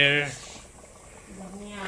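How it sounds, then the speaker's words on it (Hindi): Dal bubbles in a pot while cooking Manipuri-style khechari, a soft gurgling simmer heard between a woman's speech at the start and end. "ऐसे ही उबलता हुआ रखना पड़ेगा"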